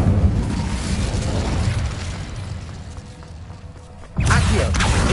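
In the video game Hogwarts Legacy, an Incendio fire spell is cast: a sustained, roaring whoosh of flame that dips and thins before a sudden loud burst of fire flares up again near the end.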